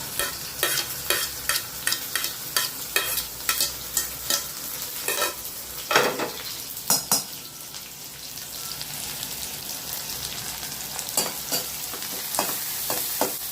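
Onion, green chili and curry leaves fry in oil while a spoon stirs them, making rhythmic scraping knocks over a steady sizzle, with the strokes fading into plain frying midway and picking up again near the end; no voices.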